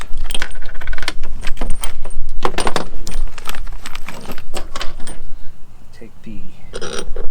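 Long metal bolts and washers clinking and jangling as they are handled during a Sumo Springs install on an Alliance fifth-wheel trailer, a run of close, bright metallic clicks and rattles with someone talking over them.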